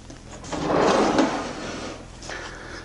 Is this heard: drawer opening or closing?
yes